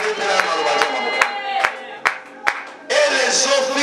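A church congregation acclaims and claps for the word of God, with cheering voices and scattered sharp claps in an uneven rhythm, swelling into a loud burst of crowd acclaim near the end.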